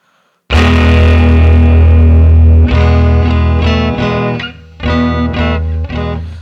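Electric guitar played through a Fender '57 Deluxe (5E3) amp simulation in Amplitube, a loud, bass-heavy distorted chord ringing out, then a run of driven, rhythmic strummed chords that stays close and dense.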